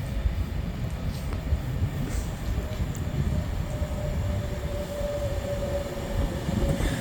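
An Avanti West Coast train from Manchester Piccadilly to London Euston pulls into Nuneaton station on the West Coast Main Line, a low continuous rumble with a faint high squeal from the wheels.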